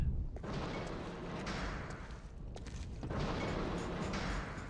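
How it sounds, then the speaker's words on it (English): Serper MP-47 pulse cannon from the video game Resistance 2 firing, a continuous roaring energy stream with booming surges that dip briefly and swell again, loud and close. "Got my hands on the pulse cannon."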